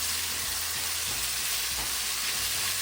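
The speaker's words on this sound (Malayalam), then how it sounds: "ഈ ക്യാപ്സിക്കം കൂടി ഒന്ന് ജസ്റ്റ് ഒന്ന് കുക്കാവണം." Green capsicum frying in a pan for paneer jalfrezi, a steady close sizzle with faint stirring scrapes throughout, no talking.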